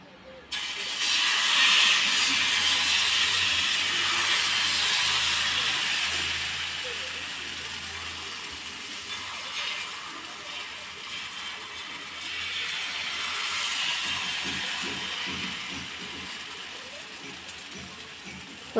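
Dhirade batter poured onto a hot pan, a steady broad hiss that swells and fades, fairly close and moderate, with a speaking voice over it.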